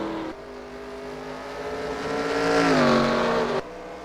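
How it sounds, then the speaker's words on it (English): Race car engine in a racing video game, the No. 3 car accelerating out of a corner at Watkins Glen, a loud steady high-pitched drone that swells as revs climb, then cuts off abruptly near the end. "Trying to listen to the engine of the 3 coming off the corner."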